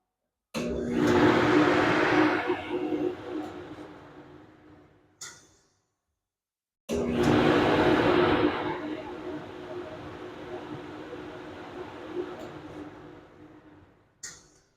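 A downdraft welding table fan from Harbor Freight runs twice, each time starting with a loud broadband whoosh that settles into a steady roar before switching off with a clunk, close and loud.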